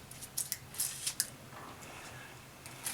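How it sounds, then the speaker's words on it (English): A kitchen knife trims the ends off a red onion on a cutting board, making several quiet, crisp crunching cuts in an uneven rhythm, close and faint. "we're going to take some red onion now. Just going to take these ends off of here."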